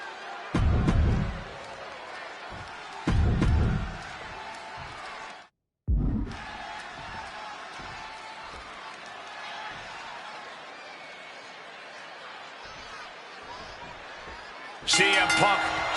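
A video-game wrestling crowd in a Chicago arena roars steadily throughout a CM Punk versus Eddie Guerrero match in WWE 2K26, with a few heavier thumps and a brief dropout partway through.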